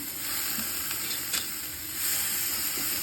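Masala sizzling in a pan while frying for an eggplant and prawn dish, a dense, loud continuous hiss with a few faint stirring taps, heard alone without talk.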